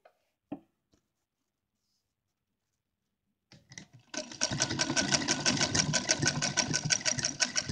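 A sewing machine stitches a small lehenga-style dress for a goddess idol, running in a steady, close, loud whirring burst after a few faint handling taps and a short pause.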